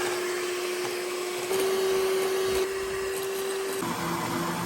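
Electric stand mixer whisking a small quantity of aquafaba in a bowl for vegan meringue, a steady close motor whine that shifts pitch slightly partway through.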